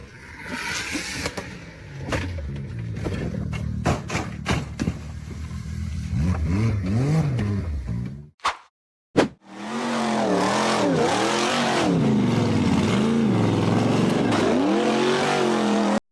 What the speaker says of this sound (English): The buggy flying an American flag revved hard and charged up the steep embankment.